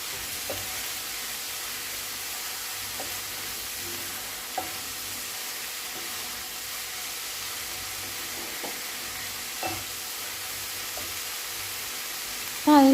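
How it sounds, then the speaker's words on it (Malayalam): Tomatoes sauté in a pan while still moist, cooking down for a chapati puffs filling; a faint, steady sizzle runs throughout with a few soft stirring clicks and no talk. "ആ ഒരു നനവോട് കൂടി തന്നെ നമുക്കിതൊന്ന് വഴറ്റിയെടുക്കാം"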